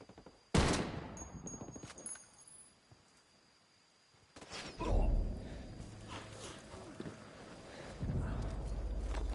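Gunfire erupts in the video game Ghost Recon Wildlands, an online match: a sharp close shot, then louder rolling bursts and a swelling barrage, with a faint thin tone running above.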